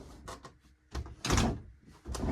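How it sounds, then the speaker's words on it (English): A closet door in a bedroom swings shut, with a few soft knocks and rustles leading up to a loud closing thud and a further bump after, no talking. "let me close the door."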